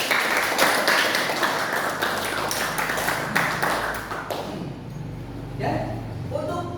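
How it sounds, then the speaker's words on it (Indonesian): Students in a classroom give a round of applause, a burst of many hands clapping that fades after a few seconds, followed by some scattered taps and voices in the room. "kita beri tepuk tangan kita semua."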